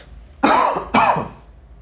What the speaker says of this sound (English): trademark cough at this point.